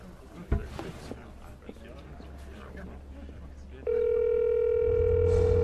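Room noise and movement give way to a steady, loud telephone tone on an outgoing call, continuing unbroken to the end.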